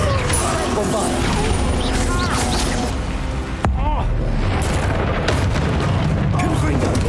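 Loud booming blasts of the Bombarda spell in Hogwarts Legacy, repeated explosions and crashes over dense battle noise and a voice calling out spells, with a brief lull midway.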